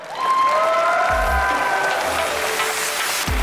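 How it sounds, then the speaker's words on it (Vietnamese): Studio audience applause on a Vietnamese TV dating show, a dense wash of clapping sustained for about three seconds at steady loudness, with faint tonal music or voice traces underneath. "Một tràng pháo tay dành cho ca nhạc sĩ Hoàng Tôn."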